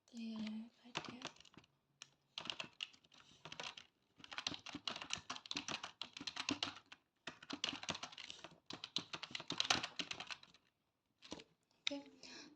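Code is typed on a computer keyboard in quick, uneven bursts of close clicking keystrokes, separated by short pauses.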